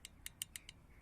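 Clicking knock from the clutch of a Motoland NX125 cross motorcycle with the engine running, heard as six sharp, faint ticks spaced irregularly over about a second against a quiet background.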